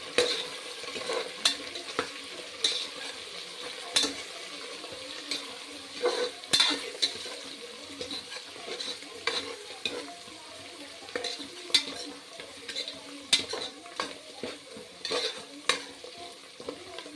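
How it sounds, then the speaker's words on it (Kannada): Green peas sizzle and fry in a pan for menthya rice bath while a spoon stirs them, the soft frying hiss carrying repeated light clinks and scrapes against the pan, close by with no talking. "ಈಗ ನಾವು ಹಸಿ ಬಟಾಣಿ ಹಾಕ್ತಾಯಿದ್ದೀನಿ"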